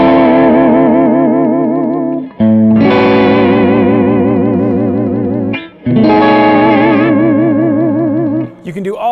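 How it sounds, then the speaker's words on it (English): Loud sustained Stratocaster electric guitar chords wobble in pitch with a wavering tremolo-arm vibrato, struck three times with brief gaps between. "when you depress on the arm, it detunes the strings and gives you a very distinctive surfy kind of sound"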